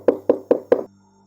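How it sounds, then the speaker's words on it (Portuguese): Four firm knocks on a bedroom door, evenly spaced and close, followed by quiet. "Fui até a porta do quarto dele e bati."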